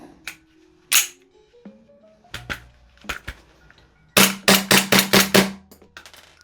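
A VFC/EMG SI SMP licensed gas blowback airsoft pistol firing: a few spaced sharp cracks, then a rapid string of about six loud snapping shots near the end, close and clear.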